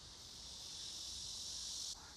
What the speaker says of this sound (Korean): 꽁지로 오줌을 싸는 매미.